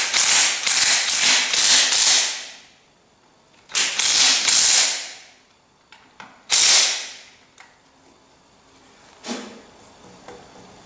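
Ratchet socket wrench with an extension working on a Ferguson TEA20 tractor, with close, loud bursts of rapid clicking ratcheting, then pauses and a few single clicks and knocks.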